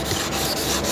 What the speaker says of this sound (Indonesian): Ini pertama kita gunakan amplas 2000 dulu ya